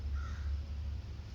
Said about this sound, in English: Birds chirping, screaming, hawks flying around.